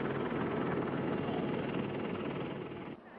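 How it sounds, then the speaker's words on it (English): A helicopter flies over the Waikato River during a waterski race, a loud, steady rotor and engine drone that fills the clip before dropping away sharply near the end. "I reckon our helicopter pilot's got one of the best jobs in the house."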